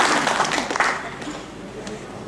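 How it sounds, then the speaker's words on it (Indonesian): A seminar audience at a Bandung meetup breaks into applause: dense, loud clapping at the start that thins and fades over a couple of seconds, mixed with crowd murmur and overlapping voices. "Tepuk tangan dong"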